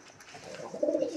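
A single short, low coo from a Romer pigeon that swells toward its close, near and fairly clear against a quiet background.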